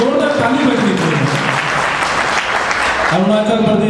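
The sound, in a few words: audience applause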